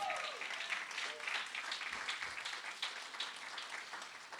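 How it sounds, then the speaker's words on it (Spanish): Steady applause from a church congregation, continuous clapping filling the space for several seconds, fairly distant. "dale un aplauso a Jesús."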